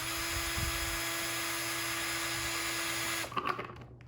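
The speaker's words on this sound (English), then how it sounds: "I'm just going to go ahead and just drill holes around." A steady high-pitched whine of a power drill drilling holes in a plastic bottle, running continuously for about three seconds, then stopping with a few clattering knocks.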